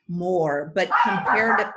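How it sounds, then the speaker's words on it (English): A pet dog at home lets out a short burst of yips and barks close by, overlapping someone speaking in a remote business meeting. "pardon my dog, she thinks I'm a stranger"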